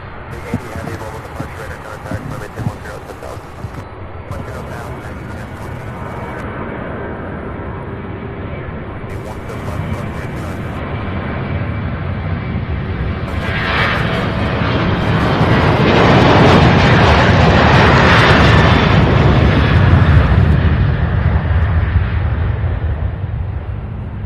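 An MD-11 jet airliner takes off in the distance at Louisville International Airport, a broad roar that builds steadily and swells toward the end, with voices talking over it.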